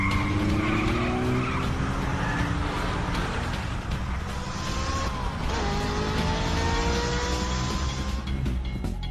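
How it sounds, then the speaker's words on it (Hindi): A car drifts through a turn, tires skidding and squealing in long rising and falling streaks over a steady engine roar, loud and close throughout. "फिर ड्रिफ्ट लेकर टर्न लो।"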